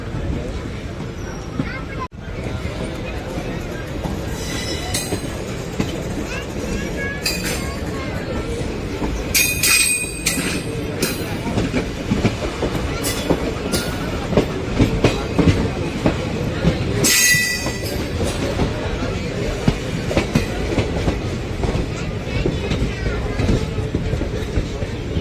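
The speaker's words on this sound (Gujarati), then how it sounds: "તો 2 ટ્રેનો એકારે અંદર એન્ટર થાય છે રેલવે સ્ટેશનમાં." Two trains, including the Veraval–Gandhinagar Capital service, roll into a railway station together, with a continuous loud rumble, clattering wheels and sharp wheel squeals throughout, and voices mixed in beneath.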